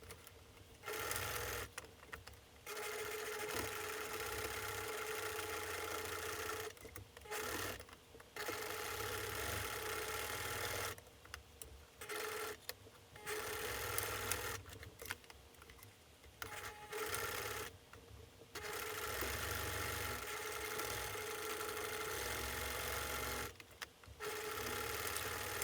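A sewing machine stitches a quarter-inch curved seam joining the top and bottom edges of a fabric face mask, running in several steady bursts of close whirring broken by short pauses.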